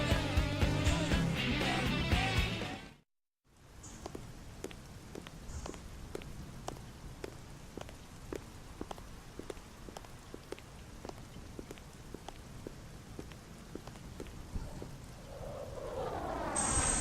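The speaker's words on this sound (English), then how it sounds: "Rain, okay?" Rain in the video game Xenoblade Chronicles X, a steady hiss of falling drops with regular soft footsteps, briefly cut to silence after a loud musical opening, then rising again at the close.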